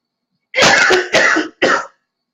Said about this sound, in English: Choking on my own thing, coughing.